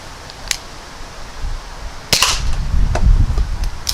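An Umarex Buck Mark air pistol fires Sig Sauer match pellets at cardboard, giving sharp snapping shots, one early and a louder one midway, followed by a faint impact and handling noise.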